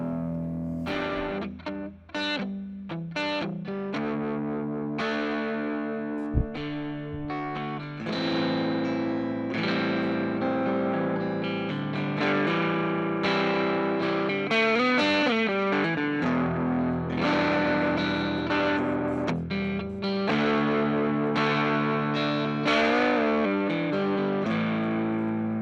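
A Gretsch 5420T electric guitar plays through distortion and effects, producing a chunky, saturated tone with strummed chords and sustained riffs, loud and continuous throughout with no talking.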